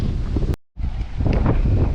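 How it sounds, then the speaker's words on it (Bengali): Strong wind gusts over Kaptai Lake, buffeting the microphone in loud, rough bursts with a brief dropout in the middle. "তবে এখন যে বাতাসটা হচ্ছে"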